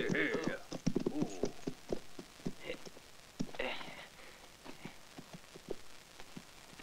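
Horse hooves clip-clop in an uneven rhythm at moderate distance in a spaghetti western film scene, mixed with voices talking and a faint patter like rain.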